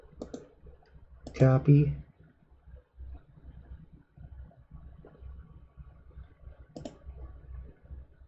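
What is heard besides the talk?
computer mouse clicking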